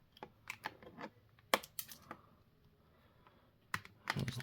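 Cutting into the packaging of a Jada Toys Street Fighter 2 Ryu action figure gives sharp snips and crisp plastic and cardboard clicks in irregular bursts, close up with no talk.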